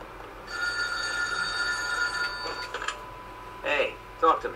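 A telephone rings in The Godfather 2 video game during a Florida stretch, a steady electronic ring lasting about two seconds before a voice starts speaking.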